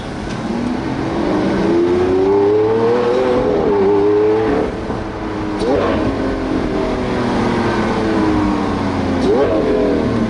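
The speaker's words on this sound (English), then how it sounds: "it sounds like a bomb is going off when these downshifts go off" A Lamborghini Aventador LP700-4 V12 engine revs loudly and repeatedly during downshifts, pitch climbing then dropping sharply with each shift, roaring continuously close by.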